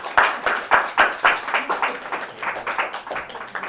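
Audience applause greets a speaker introduced for a talk on crazy quilts at a speaker series, steady clapping from a modest crowd lasting several seconds, with a few sharper claps early on before it settles into an even patter.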